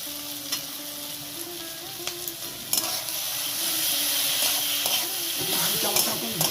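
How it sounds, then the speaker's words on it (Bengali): Ghee sprinkled over mochar ghonto, a banana-flower dish cooking in a pan, sets off close sizzling and frying that swells louder partway through, with stirring clinks and a few brief tonal sounds. "এবার আমি উপর দিয়ে একটু ঘি ছড়িয়ে দেবো"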